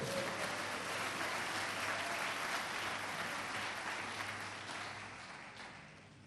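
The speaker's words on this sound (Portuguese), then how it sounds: "dê glórias a Deus, aplaudindo ao Senhor Jesus nesse momento" A church congregation claps together in sustained, even applause heard from some distance in a reverberant hall, slowly fading over the last couple of seconds.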